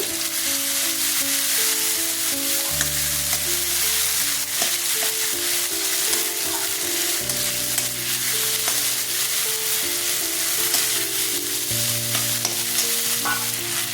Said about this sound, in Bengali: পেঁয়াজটা কষানো হয়ে গেছে টমেটো দিয়ে দিচ্ছি